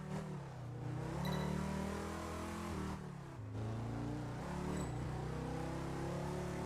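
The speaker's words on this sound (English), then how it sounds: "Tunnels don't change the sounds of the cars all that much in this game." Car engine revving through a tunnel in the racing video game Test Drive Unlimited 2, a loud steady drone with rising and falling pitch across gear changes, slightly echoey, with no talk.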